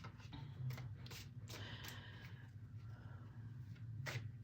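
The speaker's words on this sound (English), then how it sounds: "So I'm shuffling," Tarot cards being shuffled by hand indoors in a soft, irregular series of riffles and rubbing swishes. The sound is faint and close, with a low background hum and no speech.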